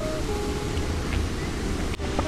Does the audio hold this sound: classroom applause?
no